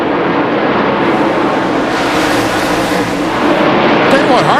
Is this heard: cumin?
no